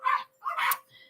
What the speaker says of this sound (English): Dogs are fighting for space over the bed right now.